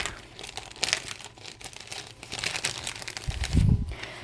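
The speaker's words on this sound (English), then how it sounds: "let's pull out our no spend stickers" A sheet of paper no-spend stickers being handled, giving close, irregular crinkles and rustles in short bursts, with a soft low thump near the end.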